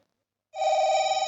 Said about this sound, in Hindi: तेरे काकर फोन आ गए